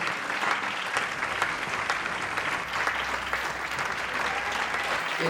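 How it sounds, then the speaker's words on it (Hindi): Steady applause from an audience at a stage event as two women are called up for a whisper challenge, dense, even clapping held at a constant level across the whole stretch with no voices standing out. "तालियां"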